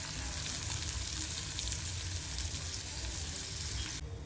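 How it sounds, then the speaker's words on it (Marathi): Finely chopped onion fries in a cumin and curry-leaf tempering for pithale, giving a steady, close, hissing sizzle that holds evenly before easing off at the end, with no talk. "कांदा ऍड करू आपण त्यात बारीक कापून घेतलेला."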